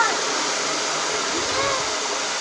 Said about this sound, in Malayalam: അപ്പം നല്ലൊരു സൗണ്ട് കേൾക്കും ആ എണ്ണയിലേക്ക് വെള്ളം വീണതിൻ്റെ.